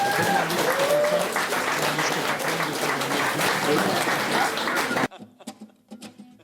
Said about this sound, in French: On peut l'applaudir, elle va venir s'installer.